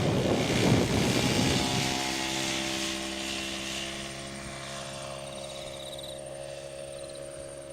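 40% scale Jungmeister aerobatic model biplane engine in flight, a steady droning buzz with a wavering pitch that fades gradually as the plane moves away, wind noise underneath.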